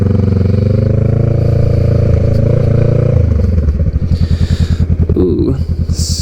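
A Honda Rebel 500 motorcycle with an aftermarket Two Brothers exhaust rides along, its loud steady drone dropping into a rapid burbling off-throttle pulse, recorded close with wind noise.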